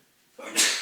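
A single abrupt sneeze bursts out after a moment of near silence, sharp and close, with a short breathy tail.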